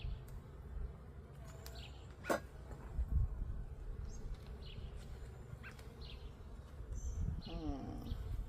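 Honeybees at an open hive in a bee yard make a soft, steady low hum close by, with occasional louder passes of individual bees and faint bird calls in the background.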